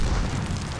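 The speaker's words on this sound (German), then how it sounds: "hier kommt eine Granate geflogen, da geht's hier gleich ab" A grenade blast in the shooter game Medal of Honor Warfighter, a loud, continuous low boom rumbling through the whole short moment with no talk over it.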